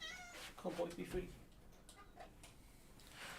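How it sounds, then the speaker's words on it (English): A domestic cat meows outdoors beyond a fence, a short, faint cry heard at a distance, with a couple of brief harmonic calls early on and quiet background noise afterward. "Yeah, I can hear my cat outside."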